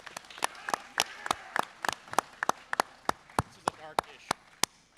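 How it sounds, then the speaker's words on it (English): A conference audience at a GunCon 2023 creator Q&A panel claps, a crowd of sharp, irregular hand claps that stay moderately loud and thin out toward the end. "Give yourselves a round of applause."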